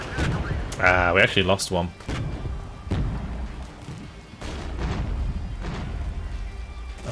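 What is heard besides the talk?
mortar fire in the video game Regiments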